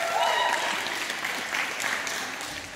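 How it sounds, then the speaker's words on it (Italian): Applause for a volleyball player after a Promoball Sanitars vs. Seriana Volley match, steady crowd clapping held at an even level throughout, with a brief voice near the start. "Raga, applauso, 3 punti ha fatto."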